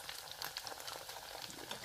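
Beef meatballs frying in hot oil until crispy give a steady, close hiss and crackle of small bubbling pops, continuous and fairly faint with no talk.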